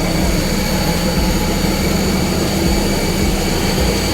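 A jet airliner's engine roars steadily and loudly on the tarmac during outdoor boarding, a constant broadband whine and rumble with no breaks.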